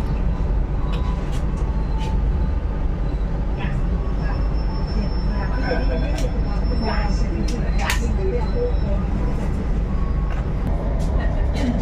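Pangrango economy train departing Cibadak station in West Java, a steady close rumble of rail noise with scattered clanks and brief metallic squeals throughout, and faint voices mixed in underneath.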